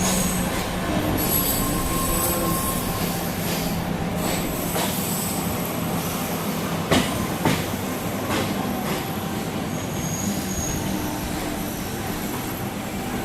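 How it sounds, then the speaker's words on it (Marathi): A fast Mumbai local train bound for CSMT passes Diva station, its wheels squealing and rumbling loudly and continuously close by, with clanks and rattles from the carriages and no talk. "CSMTला जाणारी फास्ट ट्रेन आहे."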